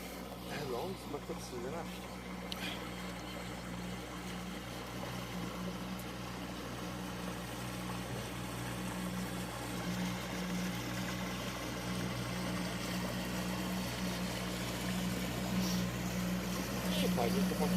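Motor boat Inspektor 10 passing on the river, a steady mid-pitched engine drone that slowly grows louder, heard from aboard another boat.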